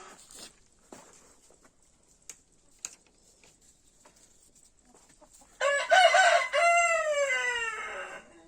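A rooster crows loudly and close by in a backyard flock, one long harmonic call following a few faint clucks and scattered ticks from the chickens over otherwise quiet ground.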